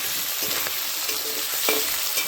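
Potatoes fry in hot oil with a loud, constant sizzle and occasional stirring clicks, close and steady throughout.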